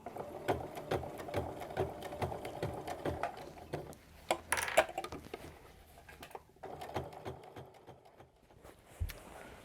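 A sewing machine stitches binding around the edge of a fabric basket, running in steady rhythmic bursts with short pauses, close and fairly quiet, with no voices.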